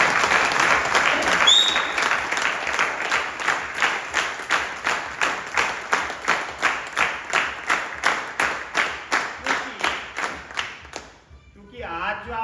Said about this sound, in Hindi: तो मैं चाहता हूँ एक जोरदार ताली उनके।